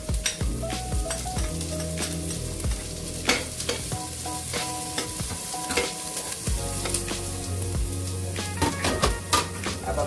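Garlic, onion and ginger sauté in a pan for a crab and moonfish coconut-milk dish, giving a steady sizzle broken by repeated sharp scrapes and clinks of a spatula stirring, close and fairly loud.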